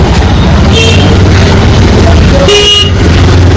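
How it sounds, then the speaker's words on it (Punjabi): Car horns honk repeatedly amid steady traffic noise, with a couple of longer blasts standing out over the constant road rumble. "ਹਾਰਨ ਤੇ ਹਾਰਨ ਵੱਜ ਰਿਹਾ"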